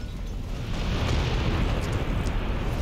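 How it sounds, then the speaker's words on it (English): A deep, rumbling explosion in the shooter game Sniper Elite 5, heavy low-end roar sustained for a few seconds with no talk over it. "don't look at explosions"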